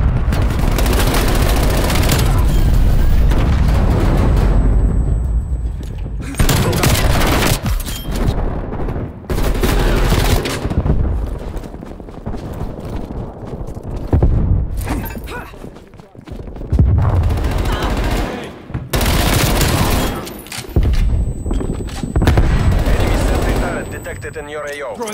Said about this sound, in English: Cruise missile inbound.